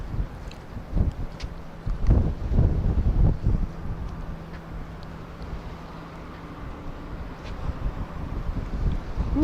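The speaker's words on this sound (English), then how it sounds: "Ooh, that wind." Wind gusting across an open fishing pier by the water, a steady broadband rush with louder buffeting around the middle, heavy on the microphone and mostly alone.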